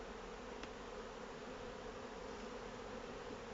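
Honey bees fill the air around hives after foraging on rapeseed, a dense, even hum steady and moderately faint, with no voices.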